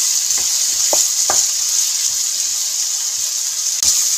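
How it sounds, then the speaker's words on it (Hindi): Mixed vegetables fry in a pan with a constant loud sizzle, while a spoon stirs them and scrapes the pan in a few short clinks and knocks, close by and with no voices. "चम्मच हमने साथ चलाते रहने।"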